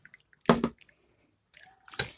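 A little water is poured into a pressure cooker holding washed, cut chicken liver with salt and turmeric, in two short, close splashing bursts separated by silence.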